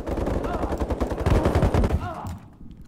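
Rapid automatic gunfire from the online shooter game Ironsights rattles out in a loud, dense burst that cuts off near the end, with a voice faintly underneath.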